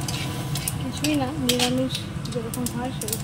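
Dried red chillies and cumin seeds hitting hot oil for a vegetarian cabbage dish, with a soft sizzle and a spoon scraping and clinking the pan, all under ongoing talk.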